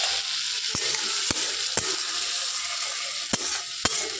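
Ground spice paste fries in a pan with a steady, bright sizzle, punctuated by several sharp clicks and knocks from a utensil stirring against the pan; no one talks.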